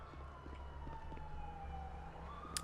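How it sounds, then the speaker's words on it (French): Ambulance siren in the video game GTA 5, a faint wailing tone that slowly falls and then rises again over low engine rumble and light clicks, with no talk. "Oh non, putain, il y a l'ambulance qui vient."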